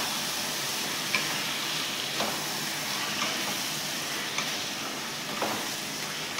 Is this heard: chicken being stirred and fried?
yes